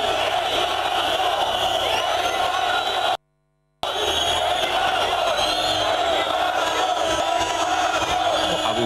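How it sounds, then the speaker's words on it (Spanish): A large crowd of protesting police officers boos and shouts at the Spanish prime minister in a loud, continuous roar, broken once by a brief moment of silence. "vamos a escuchar los abucheos de los policías"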